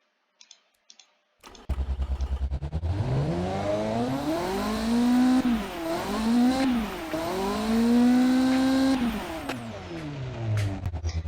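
A tiny V8 engine in a kei supercar, simulated in a driving game, revs up to an 8,000 RPM redline with a rising, buzzy drone that climbs and dips through several sustained pulls after a few opening clicks.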